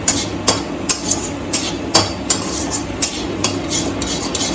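Scrambled egg for fried rice fries in a pan as a spatula strikes and scrapes the metal in a regular beat, roughly two clanks per second, over a soft steady sizzle, close and clear with no talking.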